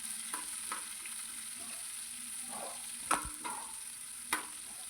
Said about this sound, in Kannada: ಇವಾಗ ದೊಡ್ಡ ಸೈಜಿನ ಒಂದು ಈರುಳ್ಳಿಯನ್ನು ಸೇರಿಸಿಕೊಳ್ಳುವ. ಇದನ್ನು ಚೆನ್ನಾಗಿ ಫ್ರೈ ಮಾಡುವ.